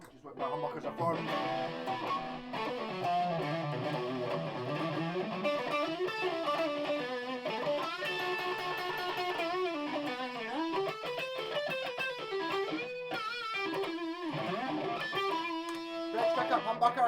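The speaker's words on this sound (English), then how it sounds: "With distortion, which is what my humbuckers are for." Distorted electric guitar through a humbucker pickup on a Fender Telecaster playing a continuous run of notes and chords, thick and saturated, steady and fairly loud throughout.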